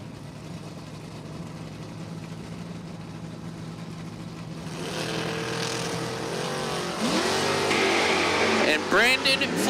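Door-class drag race cars sit idling in their lanes at a spring drag racing event, engines rumbling steadily before growing louder and revving in sharp bursts toward the end, with an announcer talking over the noise.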